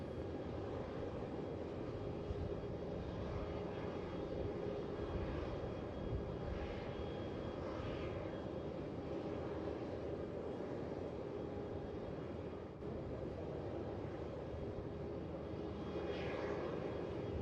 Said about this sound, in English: Qantas 1988, tower runway 27, cleared for takeoff